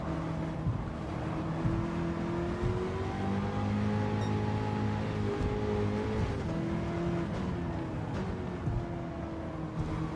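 A Toyota Hiace van with a swapped engine in Gran Turismo 7 drones on steadily with a buzzy, tonal hum, holding a nearly constant pitch throughout with no voices.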